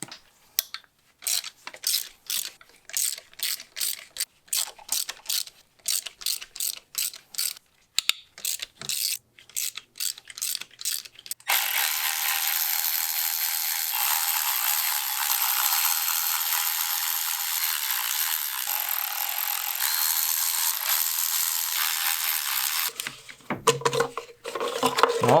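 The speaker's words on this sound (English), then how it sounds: "Now we can start removing these bolts that are bolting the PCV unit on." Ratchet wrench loosening Torx T30 bolts on the PCV unit of a VW 2.0 TSI engine, a close rapid clicking of the pawl in repeated short bursts, then a long steady whirring spin and a few final clicks.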